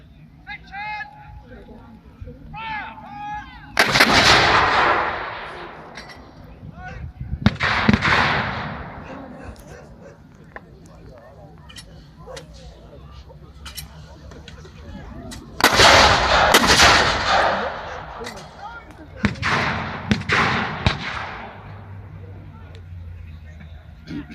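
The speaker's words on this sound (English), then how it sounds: "The 25-pounders are poised and ready to go, waiting for the command to put their missiles into the farm" 25-pounder field guns firing during a WW2 re-enactment at a farm, with several loud booming blasts spaced seconds apart, each rolling away in a long echo, over a faint outdoor background with someone talking.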